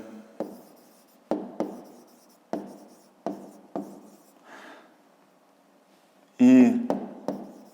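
Numbers being written on a board during a grade 5 maths lesson: a series of short, crisp scratching strokes in an irregular rhythm, close and fairly loud, with a voice briefly heard between strokes.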